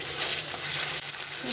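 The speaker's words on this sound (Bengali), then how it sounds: "এটাকে ভালো করে কষাতে হবে যতক্ষণ এটা তার যে তেল ছেড়ে আসছে।" Spice masala frying and being stirred in a pan for a Bengali steamed egg dish (dim bhapa), a steady close sizzle with scraping stir sounds throughout.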